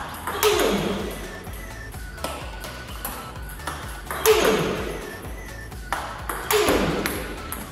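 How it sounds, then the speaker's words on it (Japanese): A table tennis ball is struck repeatedly in a forehand counter drill, giving sharp, bright pings at a steady pace of roughly one every couple of seconds, each followed by the softer tap of the ball bouncing on the table. "フォア3分の2に来たボールに対してちゃんと体を合わしに行ってカウンターを繰り返す。"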